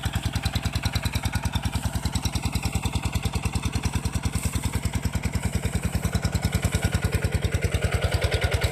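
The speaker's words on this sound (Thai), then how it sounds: "วิดน้ำด้วยท่อแรงดัน หน้า 8 ยาว 6 เมตรครับ ทำการส่งน้ำผ่านท่อผ้าใบนะครับ" An engine-driven pump feeding an 8-inch, 6-metre pressure pipe and pushing water roughly 300 metres through canvas hose thuds in a steady, fast, close rhythm, loud and unbroken throughout.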